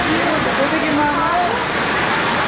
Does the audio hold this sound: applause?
no